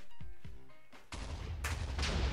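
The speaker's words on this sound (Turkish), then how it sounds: "bayağı bir patladı abi" A TNT explosion in Minecraft: after a short voice and a quieter lull, a loud, sustained blast erupts and rumbles on with a second broadband burst, close and heavy, with no talk.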